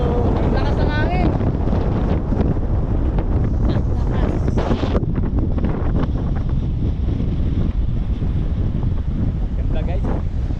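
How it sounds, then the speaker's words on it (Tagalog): Strong wind buffets the microphone on a boat at sea, a loud, constant roar with waves underneath, while people talk and exclaim over it in the first half. "Lakas ng hangin."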